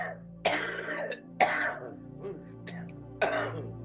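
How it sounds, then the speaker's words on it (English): Several throat-clearing coughs from a person at a healing session, three sharp bursts spaced about a second apart, fairly close and loud over a steady low room hum. "That coughing's negative energy."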